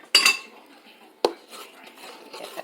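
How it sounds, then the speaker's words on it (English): A spoon scrapes and clinks against a pot while potato pudding mixture with a little wine is stirred, two sharp knocks followed by softer, irregular scraping close by. "And then she's gonna stir."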